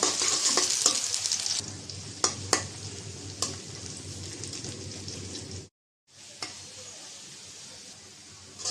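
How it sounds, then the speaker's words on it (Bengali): Onion and garlic sizzle and fry in a pan, a steady crackling hiss with occasional sharp clicks of stirring, briefly cut to silence before resuming. "এখন দিয়ে দিব পেঁয়াজ কুচি আর রসুন কুচি পেঁয়াজটা বেজে নেব"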